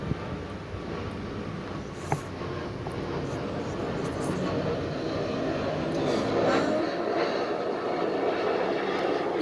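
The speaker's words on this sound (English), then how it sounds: "There goes that plane, or a plane." Airplane passing overhead outdoors by a small garden, a continuous low engine drone that slowly swells louder toward the end, with a couple of faint clicks near the start.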